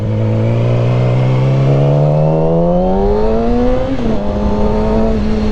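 A motorcycle with a stock exhaust revs loudly up through the gears, pitch climbing steadily, then dips briefly and settles at a higher drone, heard close and continuous.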